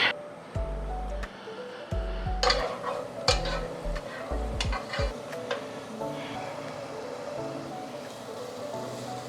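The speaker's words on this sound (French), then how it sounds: "Donc là on fait suer les oignons pour qu'ils blanchissent" Onions sweating in a pan for a tomato sauce, a soft steady sizzle with repeated low knocks and scrapes of stirring, near and alone without talk.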